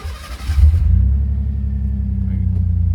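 Ford Bronco engine catching and settling into a steady low rumbling idle after a short burst of noise at the start, close and continuous.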